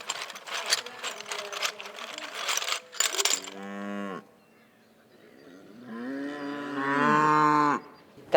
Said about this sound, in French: tu parles à une vache, elle te répond